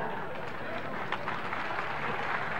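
A crowd at a large outdoor government event in Meerut claps continuously, a dense, even wash of applause that is somewhat distant, with a voice faintly mixed in.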